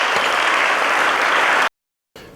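Conference audience in a large hall at Adelaide Oval bursts into loud, dense applause and cheering, sustained for over a second and a half before cutting off abruptly, with a brief return of crowd noise after the gap.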